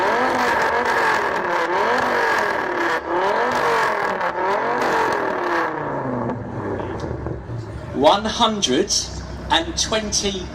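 A powerful V10 car engine revs hard in repeated rising and falling surges at a supercar event, loud and close, then drops away as voices and cheering break in near the end.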